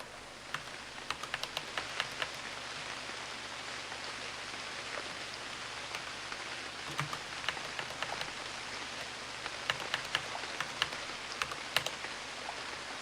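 Steady rain hiss in the survival game Unreal World, a soft continuous patter with sharp computer keyboard clicks scattered over it.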